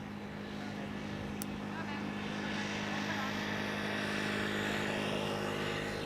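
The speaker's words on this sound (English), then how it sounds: "777-300. This one is arriving from Panama City. KLM flight 758" A KLM Boeing 777-300 airliner, registration PH-BVR, arriving at Schiphol's Polderbaan runway from Panama City, gives a steady, building engine roar at a distance, with a brief sharp click partway through.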